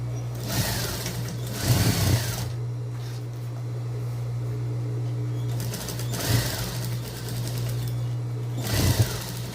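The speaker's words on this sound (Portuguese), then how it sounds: "Agora, vamos costurar a cava. Então, coloca certinho. E costura." An electric sewing machine stitches the armhole of a vest in several short bursts, its steady motor hum and rapid needle clatter close and loud, separated by quieter pauses.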